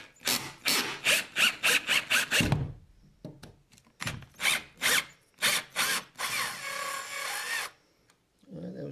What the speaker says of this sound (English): let's just see how it does it taking these screws out